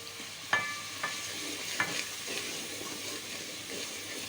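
Spices fry in a pan for aloo palak, giving a steady sizzling hiss with three sharp utensil taps against the pan early on; nobody speaks.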